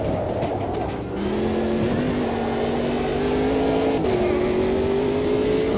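A Ginetta race car engine in the Automobilista 2 racing game, droning loud and steady with a rising pitch as it accelerates through the gears, with a brief dip in the note early on and no talking.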